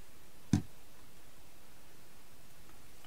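A single sharp click as a lid snaps fully closed on a card-making supply box, one brief close tap against quiet room hiss, with a faint second tick near the end.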